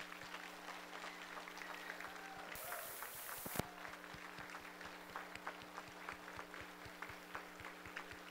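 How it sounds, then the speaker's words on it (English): An audience at a veterans honoring event applauds, a faint, steady patter of scattered clapping at a distance that carries on under a low hum, with a short burst of louder noise partway through. "Can we please give our veterans a round of applause?"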